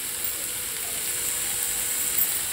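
Mutton keema frying in a pan as spices go in, giving a steady close sizzle with fine crackling hiss that stays even throughout, with no talking.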